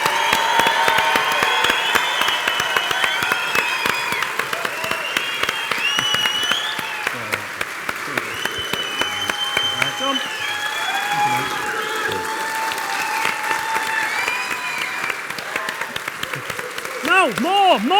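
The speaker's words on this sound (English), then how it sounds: "Everybody, please make some noise for the one and only John McGuinness MBE!" A live audience at an Isle of Man TT Races podcast event applauds and cheers in a sustained, dense burst of clapping with whoops, while a voice speaks over it.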